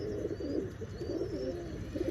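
Pigeons settled on a perch coo nearby in soft, throaty, rolling phrases that repeat in a steady rhythm, with no one speaking.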